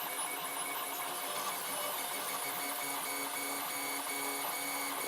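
A 3D printer prints onto blue painter's tape on a heated bed, giving a continuous dense whirring and stepper-motor buzz at steady loudness throughout, with no talk.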